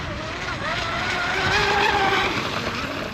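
An RC hydroplane boat, a J&R Marine H26, runs on water at half throttle, its high motor whine continuous and wavering in pitch, fairly close and loud throughout.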